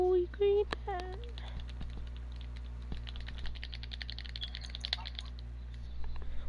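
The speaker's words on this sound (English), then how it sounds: "Why do I hear your mouse clicking?" A keyboard clicks and rattles in fast irregular bursts during a basketball video game session. Voices chat over the clicks.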